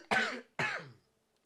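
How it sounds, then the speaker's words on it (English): Two quick, harsh coughs in a row, close and fairly loud, followed by quiet. "Coughing fit."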